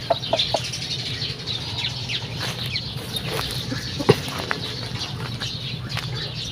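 A hen on a small backyard setup, about to lay an egg, gives repeated close clucks with bursts of wing flapping over a steady low background drone, with a sharper squawk partway through.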